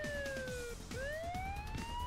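A police car siren in the video game Spider-Man 2 wails in a sweeping rise and fall, accompanied by a steady background rumble and repeating ticking noises.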